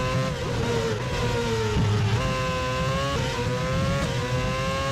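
Formula 1 race car engines from GP4 Manager 2007 at the Japanese Grand Prix scream continuously, a loud, steady high-pitched whine that dips and climbs as the cars shift and accelerate.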